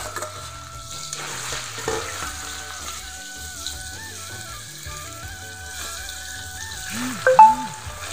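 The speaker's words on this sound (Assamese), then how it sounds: "ইয়াত এতিয়া তেলটো দি মাছটো ফ্ৰাই কৰি ল'ব।" Small puthi fish fry in hot oil in a wok, giving a continuous close sizzle with light utensil clatter and a louder stirring burst near the end.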